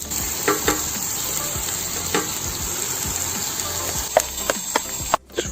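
Chicken and onions frying in oil on a tray outdoors, a steady close sizzle with several sharp crackles and pops, no voices.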